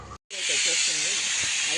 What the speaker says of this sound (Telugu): 3 విజిల్లు వచ్చేసినాయి